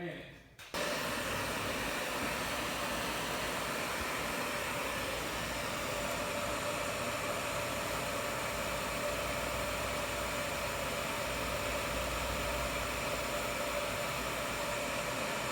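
A Santa Fe dehumidifier runs with a steady, broadband whooshing hum of compressor and fan that starts abruptly after a brief quiet moment and holds evenly, fairly faint, with no talking.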